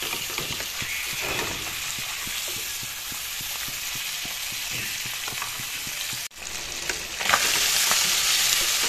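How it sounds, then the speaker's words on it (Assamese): Spiced fish pieces frying in hot oil give a continuous dense sizzle with faint rhythmic stirring taps, briefly interrupted by a dull knock before the crackle returns louder. "এইখিনি কেইমিনিটমান সময় ভাজি ল'ম মাছখিনি"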